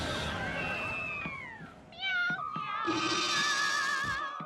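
A cat meows repeatedly, long drawn-out and rising cries with a whiny tone, close and fairly loud.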